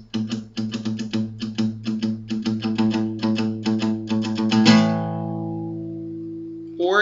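Guitar plays a riff in quick rhythmic chugs, then ends on a ringing power chord that sustains and decays before a brief new attack.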